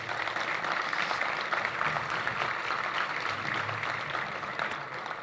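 Applause from the audience at a software development talk staged as a dating show, a dense, continuous patter of many hands clapping that holds steady for several seconds.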